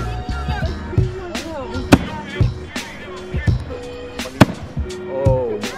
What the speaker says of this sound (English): The fireworks are about to start over there.